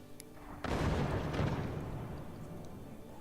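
Heavy mortars firing in the artillery strategy game Forts, a sudden loud boom followed by a rumbling roar that slowly fades, heard alone without talk.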